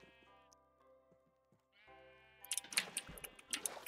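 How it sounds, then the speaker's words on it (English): Sheep on a farm in Minecraft Bedrock Edition bleat in a few clear, wavering calls, spaced out at first and then crowding together into a louder, busier burst of overlapping bleats near the end. "That's the sheep farm where we get all our wool from."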